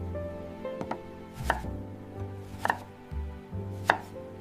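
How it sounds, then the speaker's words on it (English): A knife cuts through a banana on a cutting board at home: four distinct knife strikes against the board, spaced about a second apart, close and clear, with no talking. "I cut the banana."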